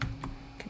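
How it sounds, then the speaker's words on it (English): A few quick keystrokes tap on a computer keyboard, soft and close in a quiet room. "See, as you start typing"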